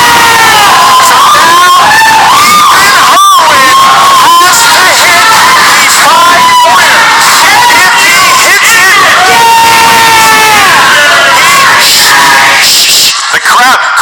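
A noisy live audience at a trivia showdown cheers, shouts and hollers continuously, a loud dense crowd roar with overlapping excited voices and brief bursts of yelling throughout.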